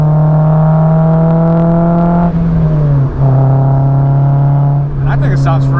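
Honda S2000 with an Invidia Q300 exhaust cruising at partial throttle, a steady droning hum that dips briefly during a shift, heard loud from inside the car with some wind noise.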